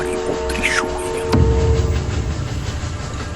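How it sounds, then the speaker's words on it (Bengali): A train sounds a sharp, sustained whistle tone before a deep rolling rumble takes over as it runs on into the dark foggy night. "তীব্র একটা হুইসেলের শব্দের সাথে বাইরের কালচে কুয়াশা ট্রেনটিকে গ্রাস করে অতল অন্ধকারে অদৃশ্য হয়ে গেল"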